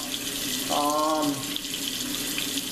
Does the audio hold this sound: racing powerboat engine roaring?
no